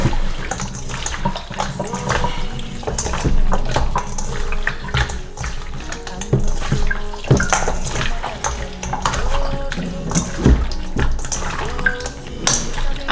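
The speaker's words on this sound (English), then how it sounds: "I'm gonna go ahead and wash my hand" Hands being washed under a running kitchen tap while cooking curry goat, steady splashing water with irregular knocks and clatter, fairly close.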